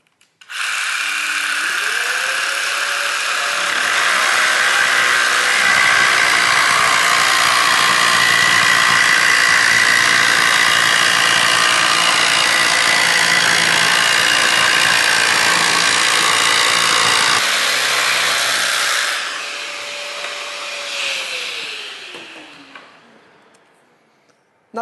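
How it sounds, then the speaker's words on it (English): A Festool Carvex PS 420 pendulum jigsaw cuts through a countertop, a loud buzzing saw drone that winds up, holds steady for most of twenty seconds with a rasping blade, then dips and spins down to silence. "I can cut through the countertop"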